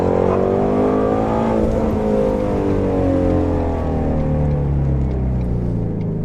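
Ford Mustang GT350 engine revving hard in second gear, a loud continuous roar with rising and falling harmonic sweeps as the revs climb, close and unbroken throughout with no voices.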